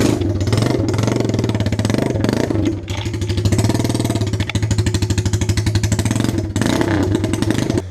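A small motorcycle engine runs steadily and loudly throughout, with a dense rapid rattling clatter, brief dips in level, and no talk over it.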